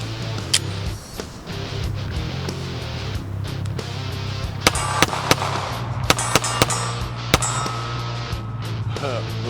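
Rock Island 1911 .45 ACP pistol firing a full magazine outdoors, a series of sharp irregularly spaced reports over a steady background hum, with a person talking between shots.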